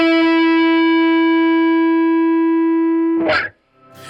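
Distorted electric guitar sounding pick-hand artificial harmonics: a bright sustained harmonic note rings loud and steady for about three seconds, then a brief scratchy noise burst of a pick scrape, and another attack begins.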